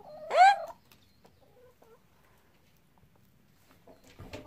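A hen in a winter chicken coop gives one loud, rising cluck-squawk close by, followed by faint scattered clucks and rustling, with quiet stretches between.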